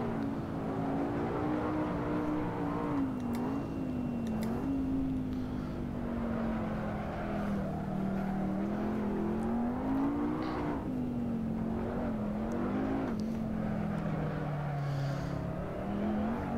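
A McLaren 12C in race mode circling Silverstone in the Assetto Corsa racing game, its engine droning steadily and loud throughout, pitch rising and dipping gently with shifts and corners, with no talking.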